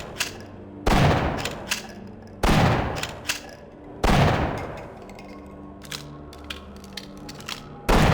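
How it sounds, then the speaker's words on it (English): Shotgun alternate-fire blasts in the Black Mesa video game, three loud booming shots spaced about 1.5 seconds apart, each with a long decaying tail, followed by faint clicking and mechanical sounds. "the shotgun uses the same sound effect on the alt fire"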